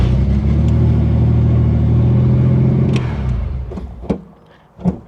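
A Chevrolet Corvair engine runs loud and near with a steady, throbbing mid-range rumble. After about three seconds it fades and dies away, and a few knocks and clunks follow.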